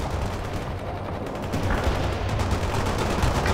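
Continuous dense gunfire in World in Conflict, a steady roar of overlapping rifle and machine-gun bursts with no pauses, loud and close throughout.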